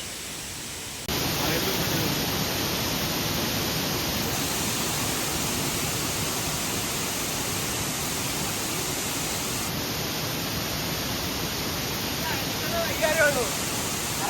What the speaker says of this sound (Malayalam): കാട് വെള്ളച്ചാട്ടം അതിൻ്റെ ഒരു വൈബ് വേറെ തന്നെയാണ്